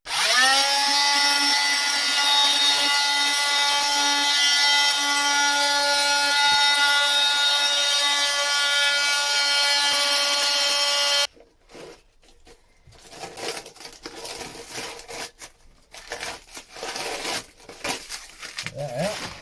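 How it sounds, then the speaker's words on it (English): A sander smoothing wood whines with a steady, high motor pitch for about eleven seconds, then cuts off, leaving scattered close handling and scraping noises. "I can hit that with a sander, finish that last bit."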